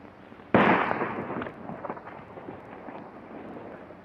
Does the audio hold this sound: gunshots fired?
yes